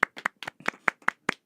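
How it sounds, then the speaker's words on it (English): A quick run of sharp hand claps in a studio, about eight in a second and a half, crisp and close with brief silences between them. "round of applause in the studio for her."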